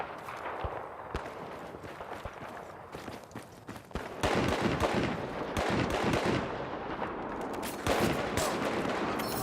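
Battlefield 4 gunfire from a sniper rifle and other weapons, loud repeated shots and bursts over continuous battlefield noise, with footsteps and distant explosions filling the background.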